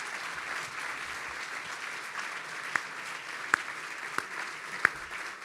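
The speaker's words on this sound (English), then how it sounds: "let's clap for all of us together" Audience at a gala clapping together in a steady, fairly distant wash of applause, a few sharper individual claps standing out near the end.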